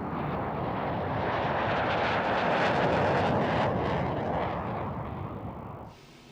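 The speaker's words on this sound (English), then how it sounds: "see the aircraft has two engines, two Turbomeca Rolls-Royce Adour engines" Twin Rolls-Royce Turbomeca Adour engines on a jet aircraft roar past at an air show at RAF Cottesmore, a loud sustained broadband rush that swells and then fades away quickly.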